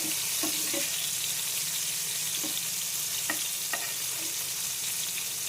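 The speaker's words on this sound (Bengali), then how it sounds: "বেগুন ভাজাটা করে নিই" Eggplant fries in a pan with a steady sizzle, a constant hiss with a few soft clinks of stirring scattered through it.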